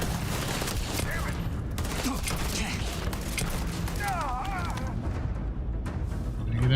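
Sci-fi gunfire in Starfield, a dense fusillade of shots rattling continuously through the scene under a busy game soundscape, with a voice speaking briefly over the shooting.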